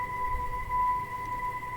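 An audio sample smeared by an extreme pulse-stretch effect in Audacity becomes a steady, even drone of sustained tones at moderate level, with no beat or rhythm.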